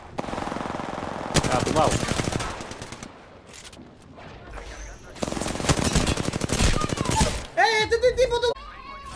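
Rapid bursts of R-301 rifle fire in the video game Apex Legends, loud and close, in repeated volleys separated by short pauses, with a voice speaking between shots.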